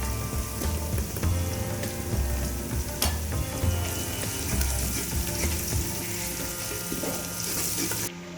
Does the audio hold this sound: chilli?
yes